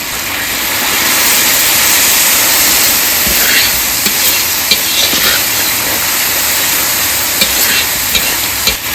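Bay leaves, dried red chillies and whole cumin sizzle and hiss steadily in hot oil for a curry, a loud continuous fry close by with occasional stirring clinks.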